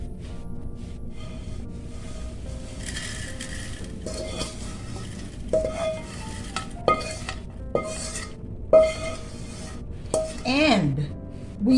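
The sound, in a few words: transferring fried dilis fish into a strainer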